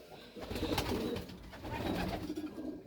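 A racing pigeon at a loft gives soft, low coos, faint and fairly close, over a dull background hum.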